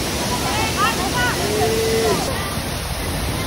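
Bulawan Falls in Aurora gives off a steady, broadband rush of falling water, loud and continuous throughout, with faint higher tones drifting above the roar.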